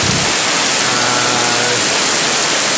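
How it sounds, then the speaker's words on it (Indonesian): Heavy rain pours over a hillside at Bukit Guling Ayam in Gombak, a dense, steady roar of broadband noise heard up close with no talking. "Tapi tengok gaya hujan ni lambat berhenti ni."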